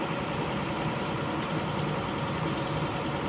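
A front-engine bus idles at a terminal before an early morning departure, a steady low rumbling drone holding constant throughout without talk.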